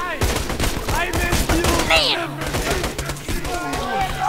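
Rapid gunfire from firing at enemies in Borderlands 2 sounds as dense, overlapping bursts of shots that crackle through the whole stretch, along with other busy game sounds.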